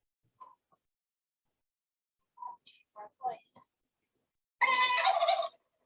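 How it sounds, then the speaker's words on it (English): Recorded wild turkey hen calls: a few short soft yelps and clucks spaced apart, then a louder drawn-out raspy call near the end, clear against silence. "Let's hear some turkey calls."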